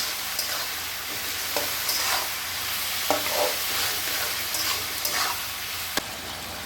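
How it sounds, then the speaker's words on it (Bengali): A mushroom curry with tomato, salt and turmeric sautés in a pan, giving a steady sizzle broken by repeated scraping and stirring strokes of a spoon, close and clear with no voices. "ভালো করে এটাকে আমি একটু কষিয়ে নেব এতক্ষণ টমেটোটা গলে না যায় ততক্ষণ ভালো করে কষাবো"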